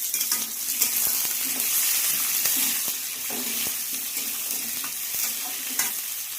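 Potato pieces fry in hot oil with browned onions in a pan, a constant crackling sizzle broken by light scraping and tapping of a spatula, near and continuous with no voices.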